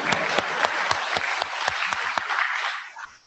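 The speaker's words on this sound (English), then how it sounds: "Dr. Lightsford, a round of applause because he's the most wonderful person here." An audience at a college of podiatric medicine lecture bursts into steady applause, dense clapping from a crowd nearby that holds for a few seconds before tapering off.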